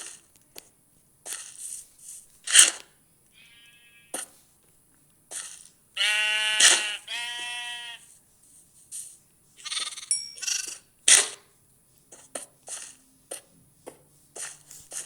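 Sheep give a short, harmonic bleat once in the middle, loud and close, amid scattered clicks, rustles and thumps, with long quiet gaps between bursts.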